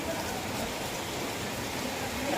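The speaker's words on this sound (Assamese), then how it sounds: "ইমান বৰষুণ দেখা পাইছেনে আপোনালোকে গোটেই বৰষুণ একদম" Heavy rain pours down in a continuous, even rush of noise, close and moderately loud, with no voices over it.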